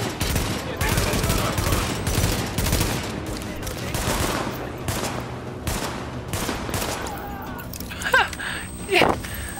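Dense, sustained gunfire from The Division video game rattles in rapid overlapping bursts through most of the stretch, then thins out near the end as a few louder single shots ring out.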